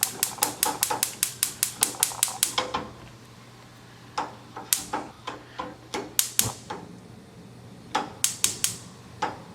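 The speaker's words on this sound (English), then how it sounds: "You just gotta keep turning until that clicking sound goes away." A gas stove igniter clicks as the knob is turned, sharp, close ticks in fast even runs separated by short pauses and a few slower scattered clicks.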